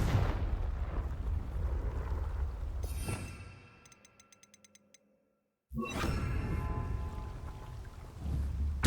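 A Confringo fire spell blasting in the Hogwarts Legacy video game: a roaring, rumbling burst for about three seconds, near-silence with faint ticking, then another loud blast that rolls on to the end.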